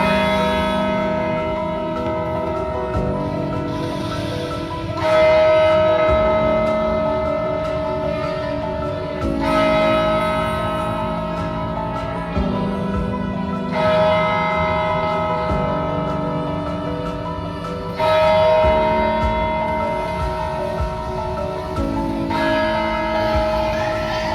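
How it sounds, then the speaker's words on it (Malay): Bells ring from the clock tower of the Sultan Abdul Samad Building, with heavy, resonant strikes every few seconds whose long ringing tones overlap into a sustained metallic hum, heard without talking. "marilah kita menghayati dentingan loceng dari menara jam"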